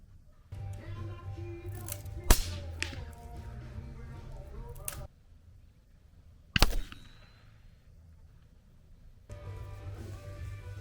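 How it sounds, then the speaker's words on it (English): A subsonic Hornady Sub-X 190-grain .308 round is fired suppressed at a target, giving two sharp, brief cracks about four seconds apart over a low steady hum and faint background rustle. "You can hear it hit the target."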